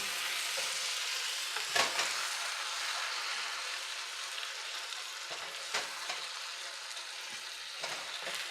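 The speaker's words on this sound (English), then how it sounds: "The fish is frying good." Steady crackling sizzle of fish frying in a hot pan for curry, with a few louder pops and scrapes from stirring; no voices.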